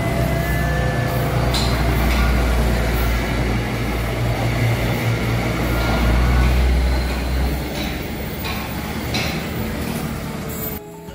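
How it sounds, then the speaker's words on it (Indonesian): A train rumbles past close by an elevated steel overpass construction site, a loud continuous low roar with clattering wheel noise that eases off toward the end. "Kita tunggu kereta api melintas."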